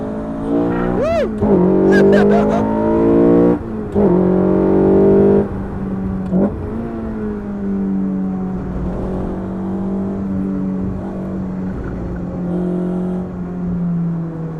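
An Ariel Atom accelerates hard around a race track, its engine note climbing loud and close through repeated rising sweeps, then settling into a steady high drone under a few brief spoken remarks.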